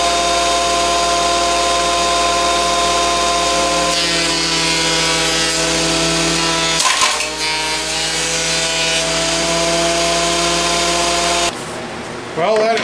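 An electric planer runs on a long glued-up wooden blank for a round cribbage board, a loud, steady whining drone with a rougher cutting tone partway through, then the motor cuts out and winds down near the end.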